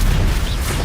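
A booming explosion spell, Bombarda or Confringo, cast in Hogwarts Legacy; a single loud, low rumbling blast lasting under a second.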